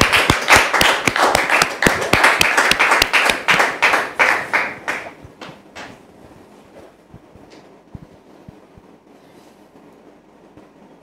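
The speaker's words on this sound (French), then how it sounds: "Est-ce qu'on peut rendre gloire au Seigneur, s'il vous plaît, par des applaudissements" A church congregation claps in quick, even unison, loud and close, for about five seconds. The clapping then thins to scattered, fainter claps that trail off over the remaining seconds.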